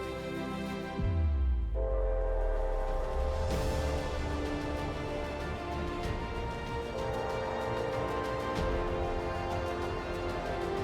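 A train passes close by, a rumbling roll with a loud horn blast near the start and steady rail noise continuing throughout.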